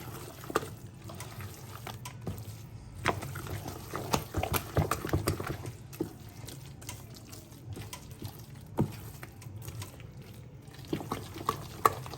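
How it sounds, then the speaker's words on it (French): A spatula stirs fish accras batter in a bowl, giving repeated soft wet scraping and squelching strokes at close range, with occasional sharper clicks against the bowl and no talking. "Je vais prendre mon spatule pour pouvoir maintenant mélanger le tout. Avec la pâte."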